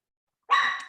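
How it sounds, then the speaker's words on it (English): A single dog bark, sharp and fairly close, starts abruptly after a moment of silence and then fades. "sorry about that. That's my dog."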